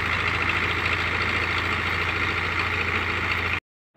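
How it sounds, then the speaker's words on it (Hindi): A tractor engine idles steadily at a steady, continuous drone during crop threshing on a farm in Kargil, Ladakh, then cuts off abruptly near the end. "उस्ताद जी अपना क्लोज करता हुआ ट्रैक्टर थोड़ा आगे लेके जाएगा"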